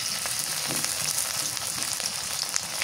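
Onion and garlic paste fries in a pan with a steady, close, bright sizzle and crackle that runs without a break.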